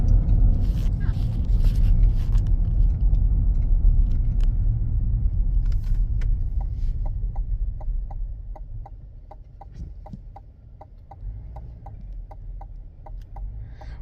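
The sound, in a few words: Chevy pickup truck arriving back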